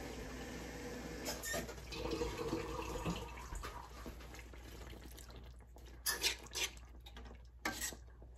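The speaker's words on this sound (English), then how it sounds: "so I'm gonna add some water to it." Water running and splashing into a pot, steady and close, with a few louder sloshing bursts toward the end.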